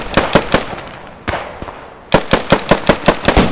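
Bursts of machine-gun fire in the WWII shooter Post Scriptum: a short rapid volley, a lone shot, then a steady stream of evenly spaced loud rounds.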